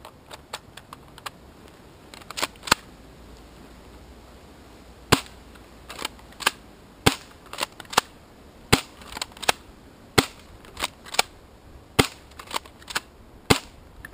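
An M15-SAS airsoft gun fires single shots, sharp dry snaps spaced irregularly about a second or two apart, with a burst of quick shots early on and a quiet gap in between.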